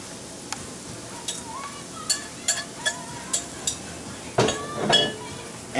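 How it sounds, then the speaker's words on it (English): Rested Yorkshire pudding batter hits a hot pan and sizzles softly beneath a series of sharp metallic clinks and knocks from the pan and utensils. "You can hear it sizzle."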